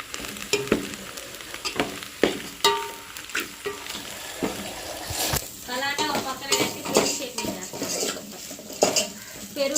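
Fried chicken pieces being mixed with biryani masala in a metal pot, with repeated loud spoon scrapes and clanks against the pot over continuous sizzling, close up, with a voice talking throughout.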